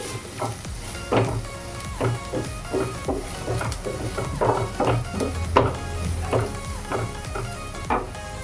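Onions sautéing in a pan for a soya chunks roast, with a loud continuous sizzle broken by regular rhythmic spatula strokes about once a second.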